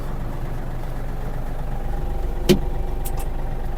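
Yanmar AF-333 mini tractor with cab running in first gear with the rotary tiller lowered and PTO engaged, a steady low diesel drone heard close and continuous, with a brief click partway through.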